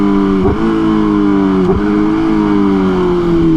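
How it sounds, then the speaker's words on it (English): A car engine held at a steady, loud rev with two sharp pops cutting through it, likely backfires, near and alone with no talk. "Did you hear me make it backfire?"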